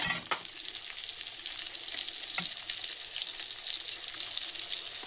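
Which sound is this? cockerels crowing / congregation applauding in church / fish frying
fish frying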